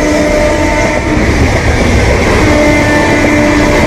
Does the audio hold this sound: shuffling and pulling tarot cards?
no